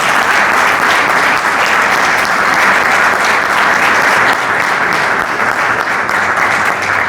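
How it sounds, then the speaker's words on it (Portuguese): Loud, sustained applause from a crowd at a political candidate presentation event, dense continuous clapping holding steady for several seconds with no speech over it. "Uma salva de palmas"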